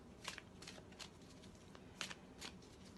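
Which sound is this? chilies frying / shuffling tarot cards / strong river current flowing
shuffling tarot cards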